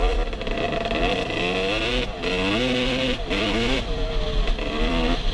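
A quad ATV engine drones steadily and fairly loudly as it passes along a dirt trail, its pitch rising and falling with throttle changes throughout, with no talking over it.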